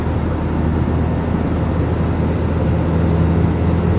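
A loud, steady car engine drone with a constant low rumble, continuous and close, without obvious revving, from a Ford Fusion 2.3L with its exhaust valve closed.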